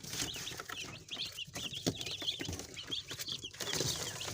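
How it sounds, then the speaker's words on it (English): Day-old Agric chicks in a brooder give rapid, high peeping chirps, many overlapping close by in a busy, uneven chorus. "these are the day-old chickens"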